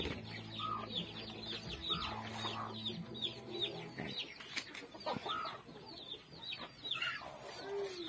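Chickens cluck inside a coop, with overlapping close calls and occasional sharper squawks over a low steady hum.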